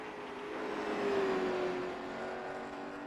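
Race car at South Boston Speedway during a night race, its engine whining past with a rising then falling pitch, fairly distant and moderately quiet, no voices over it.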